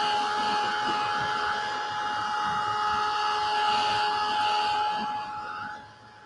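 A blow dryer runs steadily and close by as it dries a napkin art Christmas tray, giving a continuous airy whine with steady tones that tapers off at the end.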